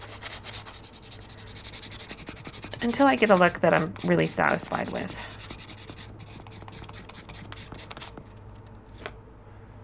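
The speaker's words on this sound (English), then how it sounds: "So I'll use this 400 grit sanding board to sand out any really deep scratches or gouges in my wire." Copper wire being sanded on an 800 grit sanding board, with a run of close, quick rasping back-and-forth strokes in short bursts, followed by quieter handling; a person speaks before and after the strokes.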